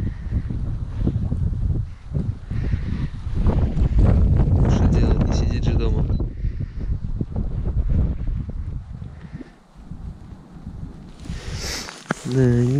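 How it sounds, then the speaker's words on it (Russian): Strong wind buffets the microphone outdoors during March fishing, a rough continuous rumble with gusts, while someone talks over it throughout. "Блин, ветрище поднялось."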